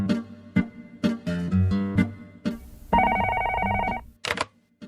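In a Korean radio advert, a telephone rings: an electronic ringing burst sits among short, punchy tonal jingles and clicks, loud and clear, with no speech over it.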